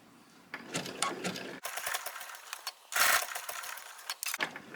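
A domestic sewing machine stitches buttons onto fabric, whirring in short close bursts with pauses between runs and one louder, denser burst near the middle.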